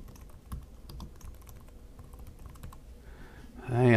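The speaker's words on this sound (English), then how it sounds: "and then just type my name." Quick bursts of light keystrokes on a computer keyboard as a name is typed into a text layer in Photoshop, close and clear, followed by a louder unrelated sound at the very end.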